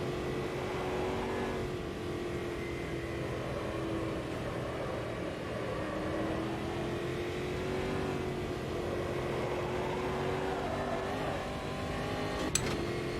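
Race car engine in the sim racing game Automobilista 2, a continuous droning engine note rising and falling with throttle and gear changes, steady and prominent with a brief sharp click near the end.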